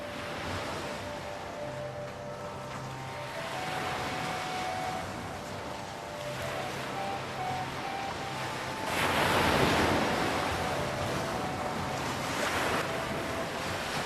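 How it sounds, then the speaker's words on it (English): Ocean surf at Kanyakumari, the southern tip of India, rolls and crashes in continuous broadband washes with wind noise, swelling to a louder surge near the end, with no voices. "He swam through the dashing waves and reached the rock"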